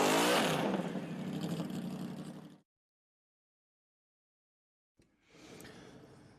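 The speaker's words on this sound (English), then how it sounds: "But you'll probably hear the car before you see it." The Subaru Project Midnight race car roars past at Sonoma Raceway, loud at first and fading away over two seconds. After a stretch of silence, a fainter engine rumble returns.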